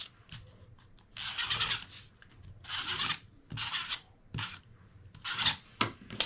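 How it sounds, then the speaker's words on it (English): A tape runner rasps across paper craft pieces in a series of short scratchy strokes, about half a dozen quick bursts separated by quiet pauses, close and crisp with no talking. "I'm going to use my tape runner"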